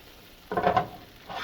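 Butter hits a hot pan holding edamame and bursts into a short, close sizzle that fades quickly, with a faint stirring sound after.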